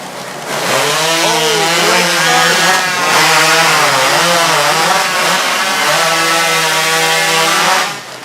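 A STIHL chainsaw cuts through timber in a British professional Timbersports competition, its engine screaming at full throttle close by in one long, steady run before dropping off at the end.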